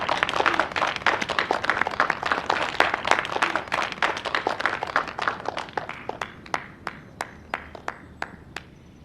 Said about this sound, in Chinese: 现在，请大家把你们最热烈的掌声送给她。